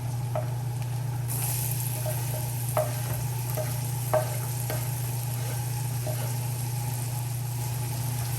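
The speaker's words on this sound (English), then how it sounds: "I'm just going to saute my onion until it becomes translucent" Chopped onion sautéing in a pan for Tuscan chicken pasta: a steady close sizzle with a few sharp stirring scrapes and clicks, over a constant low hum.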